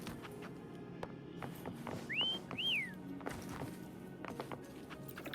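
In the video game Wuthering Waves, a character whistles to call a horse: two short rising-then-falling whistle notes in quick succession over soft footsteps and a low ambient bed.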